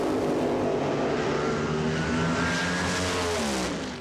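A nitro-burning funny car launches at a 1982 NHRA drag race, a loud, sustained roar that climbs in pitch as it accelerates away and fades slightly at the end.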